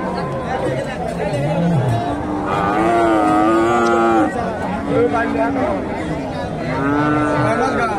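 Several cattle, Friesian and Sahiwal bulls, moo loudly and repeatedly at a cattle market in Mahasthangarh, Bogura, long drawn-out calls rising over the murmur of a chattering crowd nearby.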